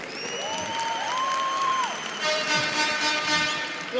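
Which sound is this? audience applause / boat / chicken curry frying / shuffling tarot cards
audience applause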